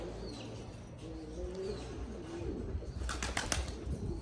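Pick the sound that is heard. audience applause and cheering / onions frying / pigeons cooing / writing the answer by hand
pigeons cooing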